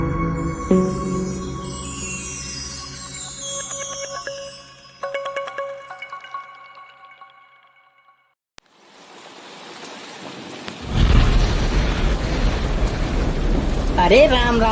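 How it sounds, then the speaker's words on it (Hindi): Heavy cartoon rain bursts in as a loud, dense, hissing downpour after a musical passage and a near-silent pause, continuing steadily to the end. "कितनी जोर की बारिश हो रही है।"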